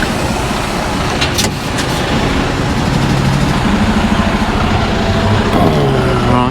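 A truck's engine runs steadily throughout, a loud broadband rumble close by with some rattling and a brief clatter early on, no voices over it.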